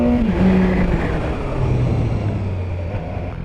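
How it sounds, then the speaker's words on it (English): A 2019 BMW S1000R Gen 2 motorcycle engine held in first gear on the pit lane speed limiter gives a loud, steady drone, its pitch sagging slightly and then holding near constant. "so first gear, we'll find out what that speed is"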